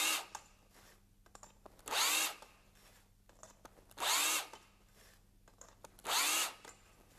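A cordless low-speed drill spins a 7.3 mm, 90-degree deburring tool in the spoke holes of a bicycle rim, working hole by hole. Three loud, steady bursts of about a second each, separated by quieter scraping and handling, with no talk.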